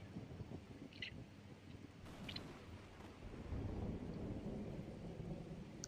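Rumbling thunder from a lightning strike in the Roblox game Grow a Garden, a steady low roll that swells louder toward the end, with faint crackles and no talk over it.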